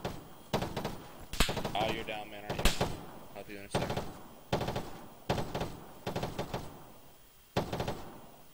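Machine gun fire in a war video game cracks out in short, sharp bursts repeated every second or so, with a person talking between the shots.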